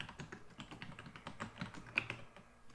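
Password being typed on a computer keyboard, a steady run of close, light key clicks at uneven pace with no voices.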